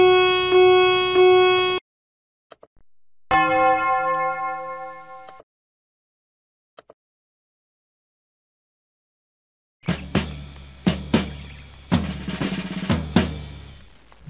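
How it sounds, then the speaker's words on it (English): Editor-added sound effects play as separate bursts: a sustained ringing bell tone, a second shorter bell strike after a pause, faint ticks, then a cluster of sharp percussive hits and clangs near the end, all without talk. "Add in additional sounds like bells, whistles, screams, and more with the sound effects option."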